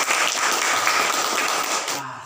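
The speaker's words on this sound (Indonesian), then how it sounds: "Tepuk tangan untuk kalian semua" Pupils in a classroom break into dense, even applause that holds steady and then stops abruptly near the end.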